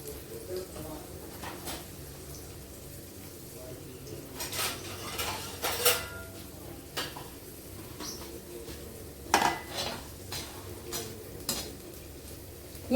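Radish pickle roasting in a pan over a low gas flame, light sizzling under clattering pan and spoon scrapes, with irregular metallic knocks and a voice talking at times.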